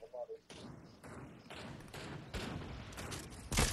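Scattered shots in the Fortnite video game, irregular thumps and bursts rising in intensity toward a loud final blast.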